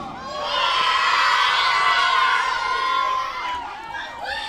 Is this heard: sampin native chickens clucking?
no